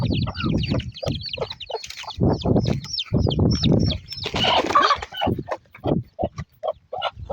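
An agitated mother hen defends her chick with loud, rapid clucks and harsh squawks in close bursts, mixed with flapping and scuffling.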